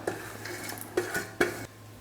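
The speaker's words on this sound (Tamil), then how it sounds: "இப்போ எல்லாம் ஒன்றா சேர்த்து கலந்துக்கலாம்." A spoon scrapes and knocks around a bowl in a few quick strokes, mixing sweet corn vada batter with small onions, with soft clinks at close range.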